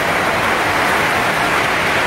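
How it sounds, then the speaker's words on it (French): Hail and heavy rain falling during a hike on the Puy de Dôme, a dense, constant hiss of pelting precipitation, loud and unbroken. "des grêlons et de la pluie à foison"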